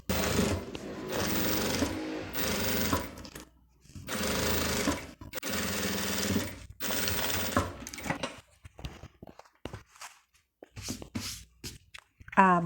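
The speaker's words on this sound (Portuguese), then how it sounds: "eu viro e passo a costura." A sewing machine stitches a seam on a beginner's classic zip pouch, running in several loud bursts a second or two long separated by pauses, then lighter clicks and handling noises near the end.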